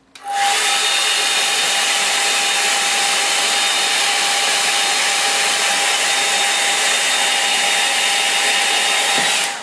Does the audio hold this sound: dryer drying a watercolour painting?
yes